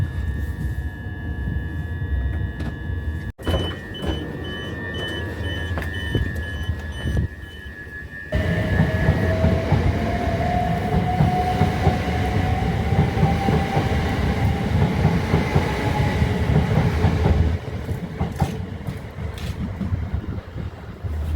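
Train pulling into Robertsbridge station in East Sussex, heard from inside: a steady loud rumble of wheels on rail with a long rising whine as it runs in, then a sharp change as it slows toward the platform.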